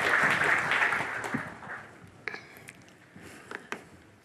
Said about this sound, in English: So, Veronica Lange, an applause for you